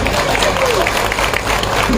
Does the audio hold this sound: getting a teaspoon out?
no